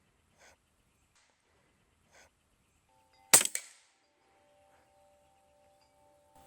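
An Air Arms SK19 .30 caliber PCP air rifle is reloaded, giving one sharp, close metallic clack with a brief rattling tail amid near silence, and a few faint soft rustles before it.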